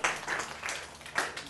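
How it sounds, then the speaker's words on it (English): A small group of students in a classroom gives a brief round of sparse, uneven clapping for a classmate's presentation, a few distinct claps rising and falling over a second or two. "give her a round of applause"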